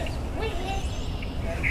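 A mallard duck outdoors gives a few short quacks, faint and distant among background ambience, with a brief higher call near the end.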